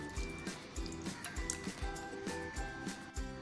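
Water and vinegar are mixed into a chicken marinade, producing a regular, wet squelching rhythm roughly twice a second, close and moderately quiet, with light drips and a faint steady hum behind.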